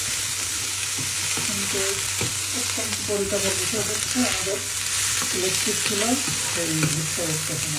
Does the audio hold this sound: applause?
no